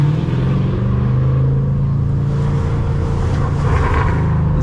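Ford Mustang GT V8 rumbling and revving steadily at close range while cruising late at night through city streets, a continuous deep engine drone with a slight rise in throttle near the end.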